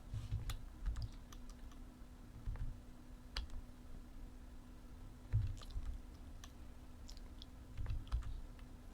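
Typing on a computer keyboard while entering a command, a light uneven patter of key taps in small clusters, close and quiet over a faint steady hum, with no voices.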